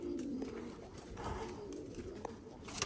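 Young racing pigeons coo softly inside a loft, low throaty murmurs repeating under a busy, close ambience with faint rustling.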